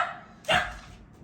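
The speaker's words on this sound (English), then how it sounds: "Sorry, I was interrupted by the dogs barking." A single sharp dog bark rings out indoors, close and brief, cutting across a softer background whine.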